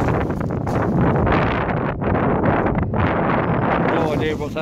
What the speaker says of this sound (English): Blowing in the wind